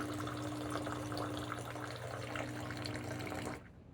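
A Gaggia Anima espresso machine dispenses hot water in a steady, close hiss and splash with a constant low pump hum, running evenly before cutting off sharply near the end.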